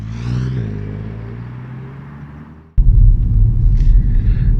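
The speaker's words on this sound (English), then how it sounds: "let's go see how this car drives" A 2020 BMW 1 Series with its engine and drivetrain in the front hums steadily with engine rumble, then switches sharply to loud, rushing road and wind noise while driving.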